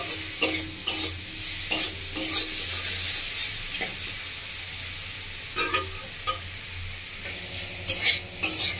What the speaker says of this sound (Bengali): চামচে লবণ দিয়ে 1 চামচ মতো ভালো করে নাড়াচাড়া করে নেব।